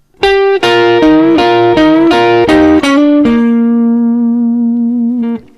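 A clean electric guitar plays the intro, a punchy rhythmic riff of repeated picked notes, ending on a long ringing note that fades.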